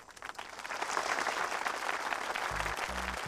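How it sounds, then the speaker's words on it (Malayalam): Applause from a crowd in a film scene, dense steady clapping swelling in the first second and holding throughout, with low rumbling bursts toward the end. "കയ്യടി നിർത്താൻ പറയൂ."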